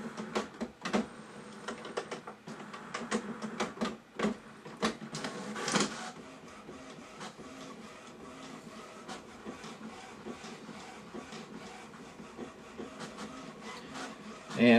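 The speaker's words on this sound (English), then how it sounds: "You can hear the printer going." An HP DeskJet printer runs through a page, giving steady mechanical whirring and rhythmic clicking and feeding noises throughout, with busier bursts early on and no talk.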